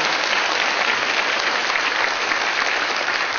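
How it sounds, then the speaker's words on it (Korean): Church members give a sustained round of applause during a Sunday worship service, a thick, even wash of many hands clapping that holds steady from start to finish. "어제 봉사하신 분들에게 격려의 박수 한번 부탁드립니다"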